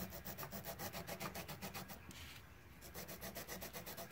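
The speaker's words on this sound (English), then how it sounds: "I'm going to use this to actually sand" Sandpaper folded around a chopstick rubbing back and forth on a knife handle at the pocket clip spot, giving steady rhythmic scratchy strokes about six per second, close and fairly loud, with a short pause midway.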